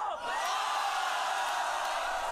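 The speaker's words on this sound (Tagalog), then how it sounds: "See how the crowd's going crazy?" Crowd at a rap battle erupting into loud, sustained cheering and whooping, a dense roar holding steady for a couple of seconds before cutting off.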